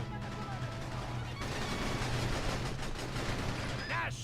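Battalion Wars gunfire on a battlefield, a steady, loud, continuous rattle of shots over a constant engine-like rumble, with a few whistling streaks near the end.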